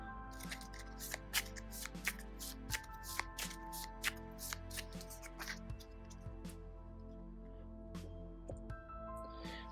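Playing cards being shuffled for a Lord of the Rings living card game at a tabletop: quiet, close, irregular flicks and riffles of card stock repeating over several seconds against a low steady background hum, with no talking.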